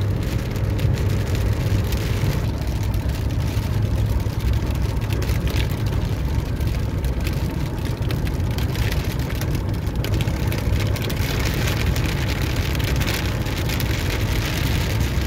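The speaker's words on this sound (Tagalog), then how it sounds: "Siguro malakas pa rin ang ulan doon sa unahan mga guys" Heavy rain drums steadily on a car roof and windshield on a Saudi Arabian road, a dense, unbroken roar of drops over a low engine hum.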